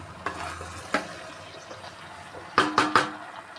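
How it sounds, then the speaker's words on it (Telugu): Tomatoes stirred into a mixed vegetable curry frying in a pan: a spoon scrapes in a few separate strokes, then three quick close scrapes near the end, over a low steady sizzle. "టమాటా వేసుకొని కలుపుకొని ఒక 2 మినిట్స్ ఉంచుకొని అన్నీ స్పైసెస్ వేసుకుందాం"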